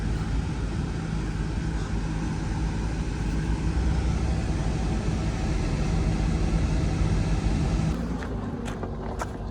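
An old $300 Toyota Camry with newly fixed power steering drives along, its steady engine and road rumble loud and constant throughout, easing slightly near the end with a few faint clicks.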